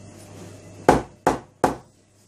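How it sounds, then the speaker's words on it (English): Three sharp, close hammer blows driving pins into a picture frame, evenly spaced about a third of a second apart, each ringing briefly before fading. "we're going to hammer them on both sides"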